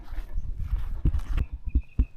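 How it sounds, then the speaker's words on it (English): Wild horses on Cumberland Island walking nearby, with irregular soft hoof clops and thuds on the ground and a few sharper steps, with no talking. "Up ahead are some of the wild horses."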